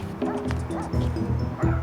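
Dogs barking close by, a quick run of sharp, repeated yaps and barks filling the moment, with some whimpering tones mixed in.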